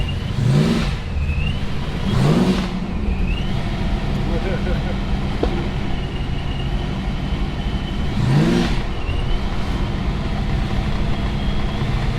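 A drag racing car engine at the Red CentreNATS 2022 event revs hard in three loud bursts over a constant rumbling idle, with crowd noise and voices mixed in.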